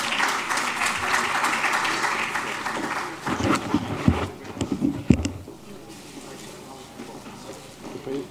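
Audience applause at a public-versus-private healthcare panel event, clapping that fills the first few seconds, then thins into scattered claps and rustling as it dies away.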